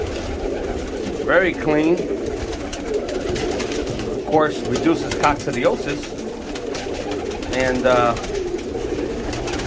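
Domestic pigeons coo in a loft bedded with floor dressing granules, giving a few bursts of deep, throaty, rolling calls spread through the clip while someone talks close by over them.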